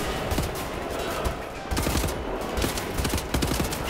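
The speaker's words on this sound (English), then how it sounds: "Shoot every bullet I've got into that guy" Rapid gunfire in Wolfenstein: The New Order, dense bursts of automatic shots crackling continuously and loudly throughout, with no pause between volleys.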